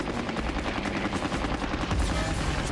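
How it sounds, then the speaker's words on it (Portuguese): Dense, continuous anti-aircraft gunfire pounds away, rapid bursts overlapping into a loud, unbroken barrage. "Os novos canhões antiaéreos fazem o que podem."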